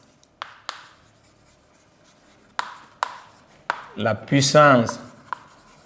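Notes are written during a physics lesson: a few sharp, scattered pen taps, then a quick run of scratchy writing strokes, close and with no talk.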